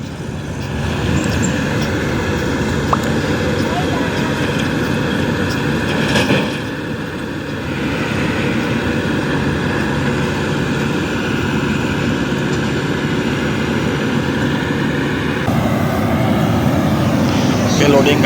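A Mahindra 475 tractor arrives for loading mud at a backhoe worksite, its engine rumbling loud and steady for the whole stretch. Wind or background noise mixes in, with a brief dip partway through.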